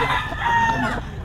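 A rooster at a gamecock market lets out a loud, close crow that fills the short moment and then trails off.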